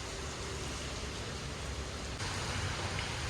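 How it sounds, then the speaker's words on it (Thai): Rain falls at Hua Hin railway station as a steady, broad hiss that fills the whole stretch and gets slightly louder partway through, with no one talking. "วันนี้นะคะสถานีหัวหินฝนตกนะคะ"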